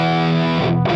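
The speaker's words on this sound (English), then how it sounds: "a High-Gain Distortion pedal made by Guitar Slinger Effects" Loud, saturated electric guitar through a Guitar Slinger Effects 87 MKIII High-Gain Distortion pedal, a thick sustained chord that shifts to a lower chord near the end, with no talking.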